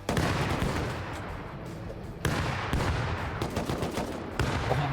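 Rapid gunfire and grenade blasts in the online survival game Rust, with dense, loud bursts of shots and heavier booms at intervals, sustained throughout without talk.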